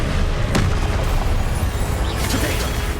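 A Confringo blasting spell explodes in the Hogwarts Legacy video game, a loud booming burst amid a dense, continuous wash of combat noise and effects.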